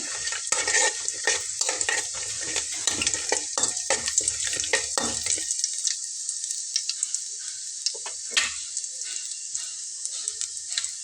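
Whole spices (cumin seeds, torn bay leaf, cinnamon and cloves) frying in hot oil, with a bright steady sizzle close by and a spoon stirring and knocking against the pan early on before the sizzle continues alone.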